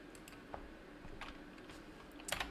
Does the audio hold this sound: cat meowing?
no